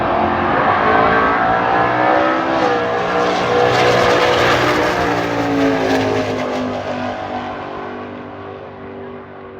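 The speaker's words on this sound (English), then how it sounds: "diesel swapped 1970 model Chevelle" A diesel-swapped 1970 Chevelle roars down a drag strip, its engine note climbing and then fading as it pulls away, loud and throaty at a racing event with no voices over it.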